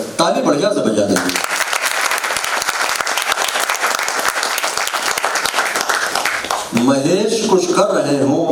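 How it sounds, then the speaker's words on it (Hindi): An audience at a stage performance applauds loudly for several seconds, a thick burst of clapping framed by someone speaking over a microphone at the start and again as it fades. "ताली बढ़िया से बजा देंगे।"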